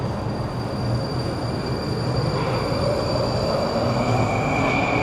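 A metro train in a Minsk subway station rumbles steadily throughout, a dense, continuous rolling roar with a faint high whine running above it and no voices.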